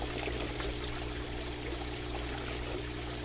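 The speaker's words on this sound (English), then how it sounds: "So I got my water flowing as you can see." Water flows steadily into an aquaponics grow bed from a bell siphon system, a constant close pouring and trickling rush with a low pump-like hum beneath, no talk.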